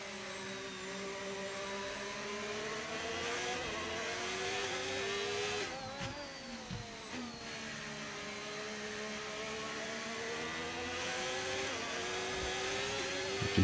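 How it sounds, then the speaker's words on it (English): A Mercedes Formula 1 car engine in the racing game F1 25 drones with a steady high-pitched whine. Its pitch rises and falls through gear shifts, with sharp downshift blips midway, and it is heard alone and fairly loud. "You can hear the Mercedes engine in the background."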